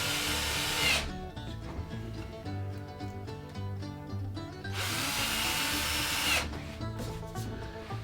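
A power drill drives screws into wooden guitar body templates, with two long high-pitched whirring runs separated by a lower rhythmic machine rattle, close and loud with no talking.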